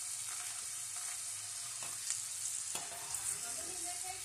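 Broad beans (chikkudu kaya) fry in hot oil, a continuous bright sizzle with small pops and a few stirring clicks, close and steady without talk.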